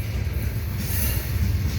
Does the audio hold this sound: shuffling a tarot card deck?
no